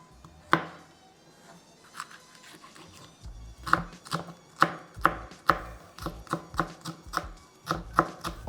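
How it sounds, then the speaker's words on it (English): A medium onion chopped finely with a knife on a board, a run of sharp crisp cuts that start sparse and quicken into a steady rhythmic tapping, close and clear with no talk. "finally chop in one medium-sized onion, and I cut this as fine as possible"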